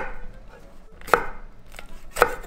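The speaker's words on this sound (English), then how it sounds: "we're just cutting it up into pieces" A knife chopping jalapeños into pieces on a cutting board for a chicken marinade, two sharp, close knocks about a second apart with faint kitchen noise between.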